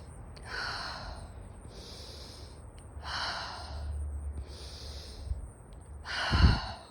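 Slow, deep breaths in and out as a calming grounding exercise, about five breaths in a steady rhythm, each a soft airy rush, close and quiet, ending with a sharper, louder exhale.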